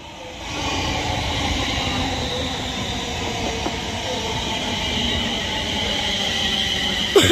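A London Northwestern Railway passenger train rolls into Birmingham International station on the West Coast Main Line with a loud, steady rumble and rattling wheels close by, ending in a few sharp metallic clanks.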